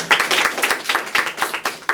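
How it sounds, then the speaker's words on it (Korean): An audience claps in a lecture-hall setting, a brief burst of sharp, uneven handclaps from a small-to-moderate crowd. "박수 한번 주세요."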